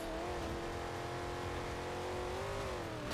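A car engine racing in the video game Midnight Club LA Remix, holding a loud, steady high-revving whine with slight pitch wavers throughout.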